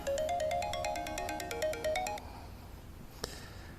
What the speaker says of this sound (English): It's my phone ringing